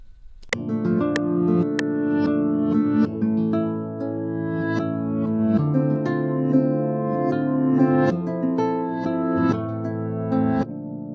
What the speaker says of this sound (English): reverse this guitar sound